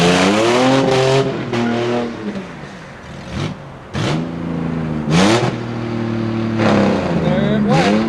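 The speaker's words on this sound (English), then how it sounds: "He's gonna do a lap. It would do donuts a lot better if it had a dip that worked." A LeMons endurance race car revving hard and doing donuts, its engine note rising and falling in repeated sweeps with tire skid noise, loud and fairly close, with people talking over it.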